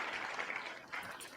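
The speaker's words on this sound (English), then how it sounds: "I like how there's clapping in the background." Scattered clapping from a convention panel audience, faint and diffuse in the background, a steady patter of many hands for just over a second.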